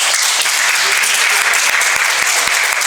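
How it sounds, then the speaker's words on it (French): An audience at a school debate tournament between two lycée teams applauds loudly, a dense, continuous wash of clapping that fills the room for the whole stretch. "sous vos applaudissements s'il vous plaît"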